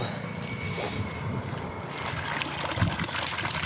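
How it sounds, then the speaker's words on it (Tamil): Water gushes from the 2-inch delivery of a newly serviced 3000W BLDC motor pump, a steady close splashing flow running throughout at moderate loudness. "இப்போது ஆன் பண்ண போகிறோம். தண்ணியோட ப்ரெஷர் எப்படி வருதுன்னு சொல்லிட்டு பார்ப்போம்."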